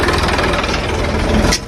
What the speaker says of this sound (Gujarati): ચલો ટ્રેક્ટર તો આવી ગયું એરંડા ઉતારી